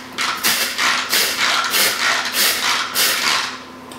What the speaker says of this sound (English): I'm going to push this lever down, and all those blades are going to spin, and we're going to make a kind of a graham cracker crumble.